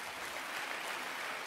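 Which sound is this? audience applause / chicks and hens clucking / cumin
audience applause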